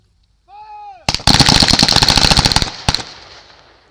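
A Sten submachine gun fires a rapid close burst of loud sharp shots, followed by a couple more single cracks, with a faint whistle-like tone just before the firing.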